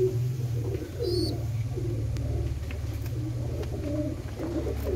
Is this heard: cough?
no